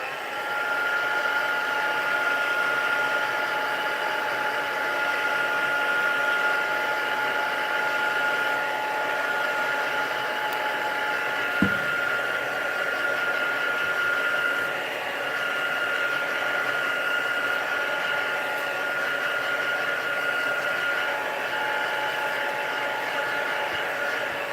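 A heat tool blows steadily while drying a handmade shabby chic card, a constant whirring hum with a faint tonal whine that runs unbroken from start to finish, with one brief click near the middle.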